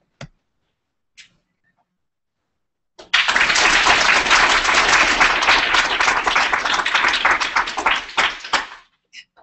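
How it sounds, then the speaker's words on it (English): After a few isolated taps, a burst of loud clapping and applause from a group erupts, sustains for several seconds, then tapers off into scattered claps. "We wanted to make sure then he has 100 decibels of applause."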